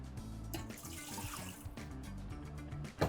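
Chilled water for focaccia dough pours and splashes steadily into a vessel for a few seconds, close and fairly quiet, ending with a brief clink.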